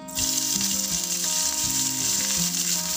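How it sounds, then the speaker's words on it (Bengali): Finely chopped onion sizzling in hot oil with cardamom over a medium flame, a steady loud close crackle that runs unbroken, with faint stirring underneath and no voices. "পেঁয়াজটাকে মিডিয়াম ফ্লেমে রেখে ততক্ষণ ভাজতে থাকবো যতক্ষণ না পেঁয়াজের রংটা চেঞ্জ হয়"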